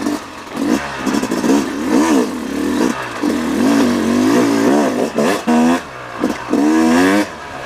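A 2018 Yamaha YZ250X two-stroke dirt bike rides a tight trail, its engine revving up and down repeatedly with rising and falling pitch, close and loud, with gear changes, brief throttle-offs and clattering.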